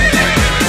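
Horse neighing in a Polish folk-pop song: a short, loud whinny blended into dense music, with quivering pitch sweeps over a full instrumental backing.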